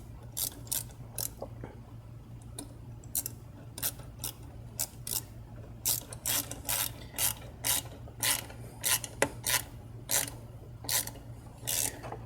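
A hose clamp on a VW 2.0T TSI cold air intake is tightened with a ratcheting tool, producing a long series of quick metallic clicks in short irregular bursts, close and quiet.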